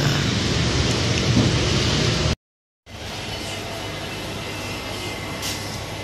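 Rain falls as a dense, steady hiss close by in Lembang, Bandung, heard near a Circle K shelter, loud and continuous, cut by a half-second gap of silence before resuming slightly softer.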